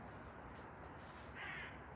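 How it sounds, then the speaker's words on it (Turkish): A crow caws once, faint and distant, over steady outdoor background noise with no talking. "etraf böyle kuşlar falan var dikkatim dağılıyor sürekli"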